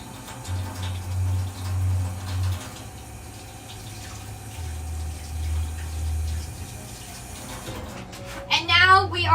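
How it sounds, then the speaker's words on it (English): Hot water poured out of a vessel in a steady, close rush and splash with some hum underneath, and people speak briefly over it near the end. "just empty the hot water that I had sitting in here"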